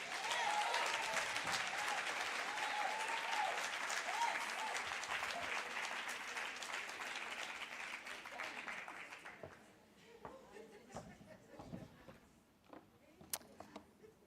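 A conference audience at an aviation gender summit breaks into sustained applause, dense and even for several seconds before thinning into scattered claps and quiet room noise with a few faint sounds.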